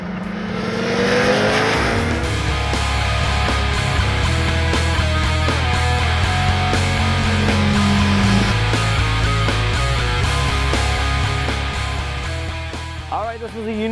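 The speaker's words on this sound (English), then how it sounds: "Kawasaki H2 supercharged. There's so much power here coming down the front straightway here at Auto Club Speedway." A 2015 Kawasaki Ninja H2 supercharged motorcycle accelerates hard down the front straight at Auto Club Speedway, its loud, rising engine note sustained and climbing through gears for the whole stretch.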